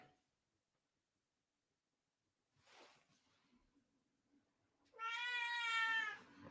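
A pet cat lets out a single loud, drawn-out meow close by, after a quiet stretch with faint shuffling.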